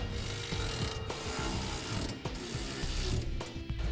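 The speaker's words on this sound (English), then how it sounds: "Now that we've got all our fasteners installed finger tight, we'll go ahead and run them down." A ratchet runs down fasteners on a B&W gooseneck trailer hitch under a 2004 Chevrolet Silverado, giving rapid, close clicking pawl strokes in quick repeated bursts with metallic rubbing, no voices.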